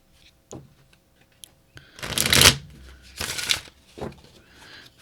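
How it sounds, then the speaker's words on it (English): A 60-card oracle deck being riffle shuffled: two loud, crisp bursts of riffling cards after a few soft taps and handling sounds, close by and alone. "One more shuffle."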